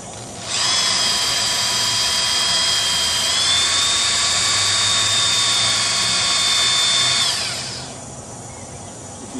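A power drill whirs steadily at high speed for several seconds while winding wire for a Möbius coil, its pitch dipping slightly midway before it winds down and stops.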